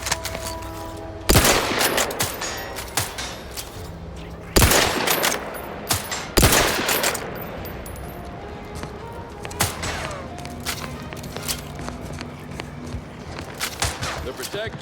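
Gunfire rings out at a shooting practice range in The Outer Worlds 2, a few loud sharp shots spaced seconds apart with lighter pops and footsteps between them, while voices talk throughout.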